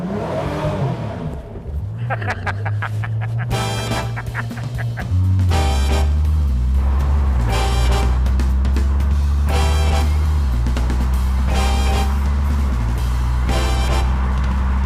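A Morgan sports car pulls away from its factory, the engine note rising and settling into a steady low drone while bursts of broadband noise come and go. A loud, close, continuous sound with occasional voices.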